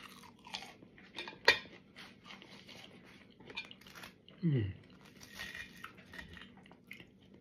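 Someone eats crunchy fried fish and chips, with quiet, close chewing and a few sharp crunches, plus light clinks of cutlery or a plate, under soft talk.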